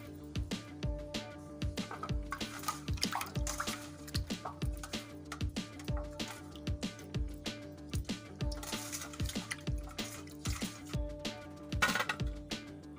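Peeled onion, garlic, ginger and quartered chillies washed by hand in water: continuous rhythmic squishing and splashing with frequent sharp drips and knocks, close and steady, no talk.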